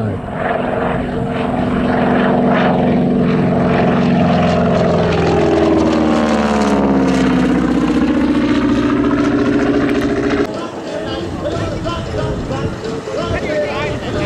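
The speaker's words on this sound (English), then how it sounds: "T6 Texan, let's listen to the engine." A T-6 Texan propeller aircraft engine roars loudly and steadily at a warbird flying show, its pitch sweeping as the plane passes, then dropping to a lower rumble.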